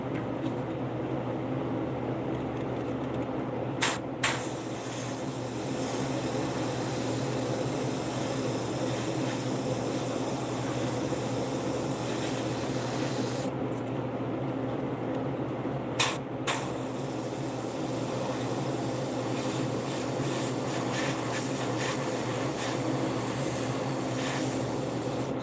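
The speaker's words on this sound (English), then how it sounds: "So I'm spraying the bottom half black, top white." An airbrush sprays black and white paint onto a stripped bass guitar, giving a long, even, close hiss that carries on throughout, broken twice by short sharp clicks.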